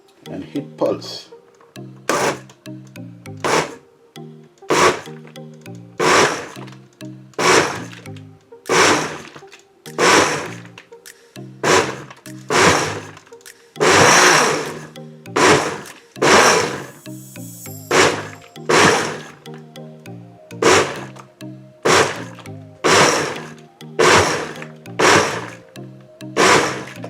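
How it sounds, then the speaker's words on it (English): Blender pulsing a rum peanut punch mixture, around twenty short loud bursts in a steady rhythm with brief gaps between, close by, with a voice talking in places. "cover your blender"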